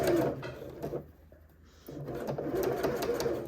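A sewing machine stitching fabric for a bag, a fast mechanical whirring rattle up close that pauses briefly in the middle, as for a back stitch, then runs again steadily.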